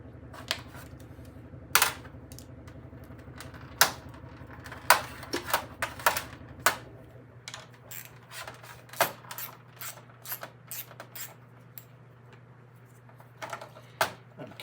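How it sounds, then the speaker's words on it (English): A rotating parts tumbler that turns like a paint mixer, with a load of drivetrain parts tumbling and dropping inside, gives irregular clattering knocks and sharp clicks over a steady low mechanical hum. "this rotates like a paint mixer, it doesn't shake, it rotates"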